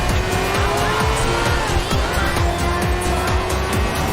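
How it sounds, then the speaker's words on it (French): A motorcycle slides and skids in the video game GTA 4, with loud, steady engine and tyre noise and a squealing skid running throughout, amid dense traffic sounds, and no voices. "elle glisse la moto"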